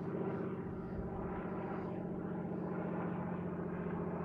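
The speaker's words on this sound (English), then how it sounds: "there's the old float plane" A float plane flies overhead, its propeller engine a steady, continuous drone that stays even and moderately loud throughout, with no talking.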